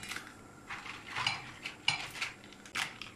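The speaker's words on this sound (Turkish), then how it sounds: "Kaynayan suyun içerisine şöyle biberlerimi bırakıyorum." Dried peppers for Gaziantep-style dry dolma are dropped into a pot of boiling water, making several close, irregular soft splashes and light metallic pot clinks over a faint steady background hiss, with no talking.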